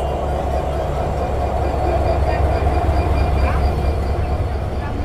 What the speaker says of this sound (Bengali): 6636 লোকোমোটিভ নিয়ে দাঁড়িয়ে আছে আন্তনগর দ্রুতযান এক্সপ্রেস।